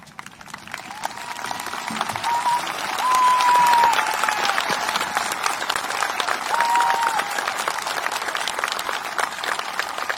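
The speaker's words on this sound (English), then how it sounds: "please stand and give one final applause to the graduating class of 2020" Sustained applause from a large crowd at a 2020 high school graduation ceremony, steady dense clapping that swells midway and continues throughout without speech.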